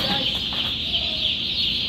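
Broiler chicks on a Taiwan poultry farm cluck and flap in a dense, continuous chorus close by, with a steady high chirping wash and soft wingbeats running throughout.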